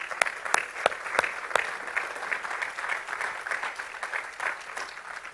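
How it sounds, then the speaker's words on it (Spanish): A church congregation claps together for several seconds, with a few sharp, distinct claps at the start before the sound settles into steady, dense applause that holds at an even level. "vamos a aplaudir, vamos a dar las palmas bien al Señor."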